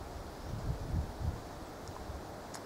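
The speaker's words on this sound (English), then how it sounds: "Is that slight wind blowing ruining the audio on this film?" Light wind buffeting a microphone outdoors among plumbago shrubs, soft low rumbling gusts with a few stronger puffs, faint and continuous.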